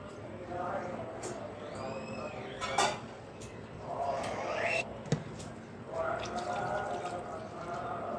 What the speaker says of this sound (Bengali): দিয়ে দিচ্ছি ডালের পানি